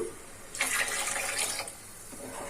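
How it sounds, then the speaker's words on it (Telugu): Water pours steadily over rice for about a second, a close, splashy rush that then stops, leaving a quiet room. "మనం కొంచెం వాటర్ వేసుకుందాం"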